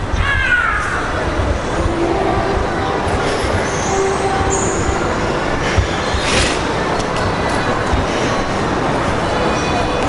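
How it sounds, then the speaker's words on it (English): Small children's ride-on trains roll past nearby with continuous rattling and clacking, occasional high wheel squeals, and a steady mechanical din throughout. "And the little trains going by."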